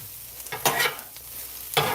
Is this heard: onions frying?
yes